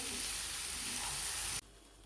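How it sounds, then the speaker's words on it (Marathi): Tomatoes sauté in a pan for cheese pav bhaji, giving a steady close sizzle for about a second and a half before it cuts off abruptly. "टोमॅटो पण 2 ते 3 मिनिटं परतून घ्यायचं."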